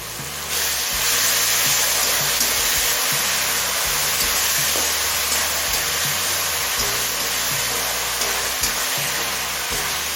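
Ginger paste, garlic paste, green chillies and salt sautéing in a pan for a green jackfruit chicken dish, a loud, dense, constant hiss of frying that holds steady throughout, with faint low background music.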